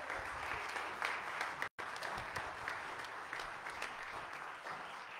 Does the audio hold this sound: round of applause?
yes